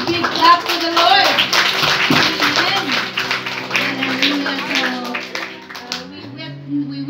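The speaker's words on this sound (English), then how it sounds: "Can we give a big clap to the Lord?" A church congregation clapping at a pastor's 60th birthday celebration, a burst of many hands clapping loosely together, with voices and speech running through and over the applause.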